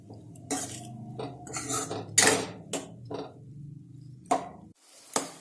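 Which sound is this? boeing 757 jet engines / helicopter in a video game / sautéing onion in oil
sautéing onion in oil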